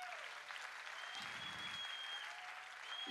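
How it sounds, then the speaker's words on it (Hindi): Sustained applause from an audience at a motivational speech event, steady and dense throughout, with a brief low rumble in the middle and a slight swell at the end. "इसके लिए एक जबरदस्त तालियां होनी चाहिए"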